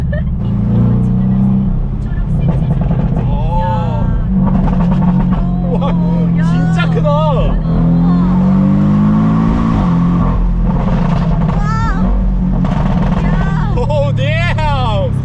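A Porsche Boxster's loud turbocharged engine revs and accelerates, its pitch climbing and falling repeatedly, with excited voices talking over it throughout.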